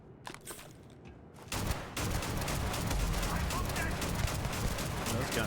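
Rapid gunfire from guns in Starfield's Shattered Space, a dense continuous fusillade that swells in after a quieter opening and keeps rattling at a high level, with talk mixed in.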